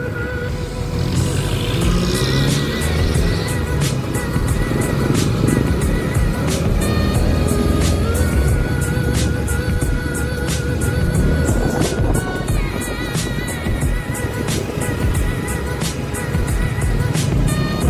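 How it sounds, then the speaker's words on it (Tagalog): Dense road traffic in Naga City, a continuous roar of car and motorcycle engines passing close, with regular ticking clicks running throughout. "Marami ng sasakyan."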